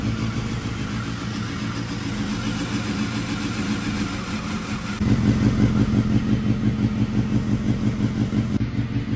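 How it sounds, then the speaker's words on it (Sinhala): A Honda Hornet motorcycle engine, just tuned up, idles with a fast, steady mechanical pulse. About halfway through the engine note jumps louder and deeper and then settles into a firm, even idle. "ඉතින් ස්ටාර්ට් කරනවා මල්ලි බයික් එක."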